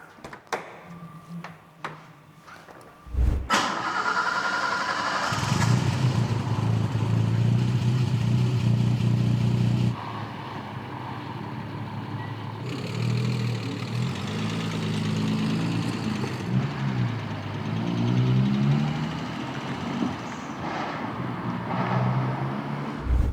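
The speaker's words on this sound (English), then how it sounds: "So I guess it's time to take the Alfa Romeo GTV6 for a final drive." Alfa Romeo GTV6 engine on a drive, a steady continuous engine drone that rises and shifts with gear changes and speed, heard from inside the car with no talking.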